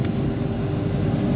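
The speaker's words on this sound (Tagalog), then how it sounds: "mabuti yung tunog ng pump. Gumagana na siya." Fuel pump of a Ford Focus running inside the fuel tank, a steady low hum with faint vibration, continuous and fairly quiet, with no talk over it.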